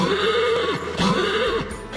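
A horse neighing in a broadcast news segment, a single drawn-out whinny with a second cry starting near the end, fairly loud and close with no talk over it.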